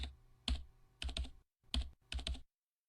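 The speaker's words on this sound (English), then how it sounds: "Fumi addressed me as I was typing out a report." Keys clack on a computer keyboard while a report is typed, several short bursts of crisp close taps separated by brief silent pauses, quiet and alone.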